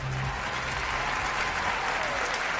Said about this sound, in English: Again, let's give all of our judges another round of applause.